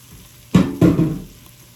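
Onions sweating in a pan for French onion soup chicken, two short bursts of close sizzling and stirring that fade quickly into quiet.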